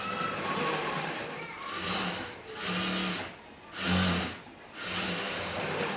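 A sewing machine stitches a kunchgi, a traditional cloth hood, in several separate runs of rapid, steady whirring broken by short pauses, close and fairly quiet, with a person talking in between.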